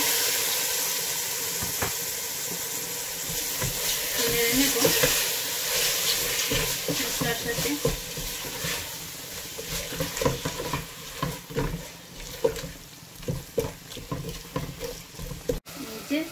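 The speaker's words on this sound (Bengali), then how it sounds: "এবার চিংড়িগুলোও দিয়ে দিচ্ছি" Shrimp frying and being stirred in a pan for a Bengali shrimp and bottle gourd curry, a steady sizzle broken by repeated scraping clicks of a spoon, growing busier toward the end, with no voices.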